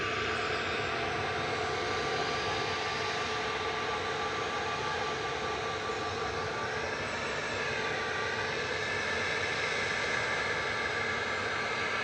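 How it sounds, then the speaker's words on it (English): A Ryanair Boeing 737-800 taking off from Manchester roars loudly and steadily, its engine noise joined by rising and falling whining tones partway through, with no speech over it. "Yeah, here goes the Ryanair"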